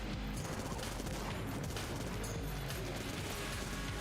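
Dense, nonstop gunfire rattles through a fight in Enter the Gungeon, rapid shots blurring into one loud, unbroken barrage without pause.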